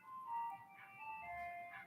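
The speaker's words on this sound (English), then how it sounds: "As there's an ice cream truck passing by my house." An ice cream truck passes a house playing its chiming tinkly melody, faint and distant, the tune drifting in brief notes over quiet background.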